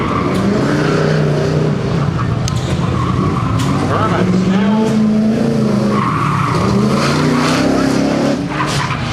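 A race car engine roars and shifts pitch as it drives through an autocross course, with tires squealing, under a commentator's steady talk.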